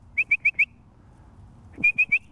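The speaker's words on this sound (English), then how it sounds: "You notice I'm whistling." Someone whistles four short, clear high notes to a quail hunting dog, pauses, then whistles another run of four, close and crisp over a quiet background.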